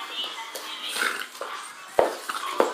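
A small puppy makes soft, faint whimpers and brief whines close by at home, with an owner speaking over them now and then.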